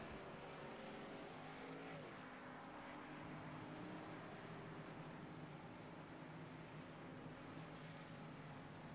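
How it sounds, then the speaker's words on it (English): Steady low engine drone of race cars pacing at Fontana ahead of a NASCAR race, a number 51 Chevrolet among them, heard faintly and at a distance with an even, unbroken rumble and no talk. "as the cars are going to be pacing"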